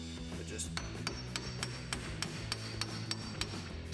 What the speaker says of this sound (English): what we're gonna do is hammer this thing right in there and kind of pop that out